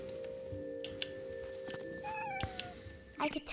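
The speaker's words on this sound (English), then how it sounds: "Oh, angry kitty noises." An agitated cat in the game What Remains of Edith Finch gives a few short hissing, yowling cries at close range over a steady game soundscape with a low tonal hum.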